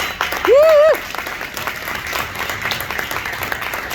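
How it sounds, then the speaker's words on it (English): A large audience in a Vancouver hall applauds for Dale Tallon, former Chicago Blackhawks general manager and Stanley Cup winner, with steady dense clapping throughout and a voice briefly speaking over it. "People can actually applaud in Vancouver."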